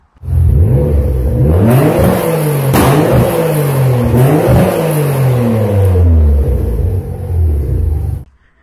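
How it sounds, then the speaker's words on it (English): A Mitsubishi 3000GT VR4 engine is revved hard several times, loud rising and falling roars that sweep up and down in pitch, close and unaccompanied by talk, ending abruptly. "So here's a clip of a VR4 making some noise."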